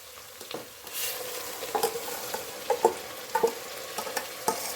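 Ground masala paste frying in oil with onions for a home meat feast, a steady close sizzle broken by repeated scraping stirs of a spoon against the pan, no voices.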